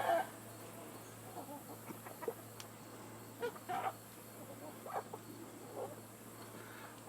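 A broody hen sitting on a fake egg gives soft, scattered clucks and low grumbles, faint and spaced out over a steady quiet background hum.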